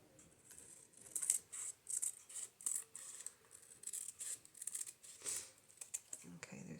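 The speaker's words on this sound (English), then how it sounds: "So I'm going to just cut around wherever the book cover is, or the journal cover" Scissors cut around the cover of a sunflower journal, giving repeated snipping strokes with a crisp papery crunch and rustling between the cuts. The sound is close and fairly steady.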